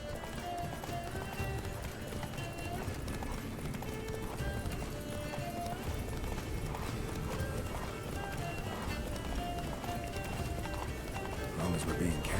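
Roach the horse gallops in The Witcher 3: Wild Hunt, with rapid, steady hoofbeats running throughout, close and continuous, under occasional spoken voices.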